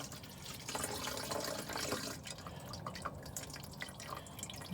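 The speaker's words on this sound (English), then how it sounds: "So basically, you're just going to take this, if I don't dump it everywhere," Windshield washer fluid pours from a jug into a Freightliner truck's overflow tank, a steady close gurgling stream with splashy trickling that thins toward the end.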